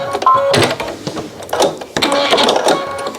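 A sewing machine back-stitches a cloth face mask in short bursts of rapid mechanical whirring and clatter, stopping and starting several times, with a few quiet voice sounds between runs.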